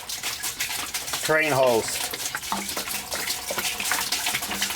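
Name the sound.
pouring a gallon of liquid into washer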